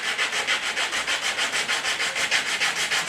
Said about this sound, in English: you're going to take your 80 grit or a file and sand this down